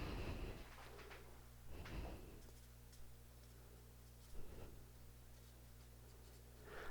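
Marker or chalk strokes scrape across a board in a few short, faint bursts as equations are written, separated by quiet stretches over a low room hum.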